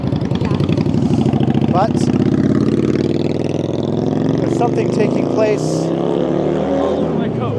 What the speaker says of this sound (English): I'll wait till that stupid loud motorcycle gets out of earshot.